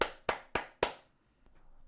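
Claps ring out at a video game reveal event: four sharp, evenly spaced claps close by, then quiet with a faint tap.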